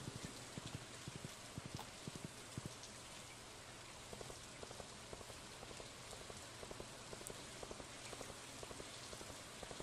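Rain falls steadily in the farming video game Stardew Valley, a soft continuous hiss of drops with faint scattered patters, quiet and even throughout with no talk.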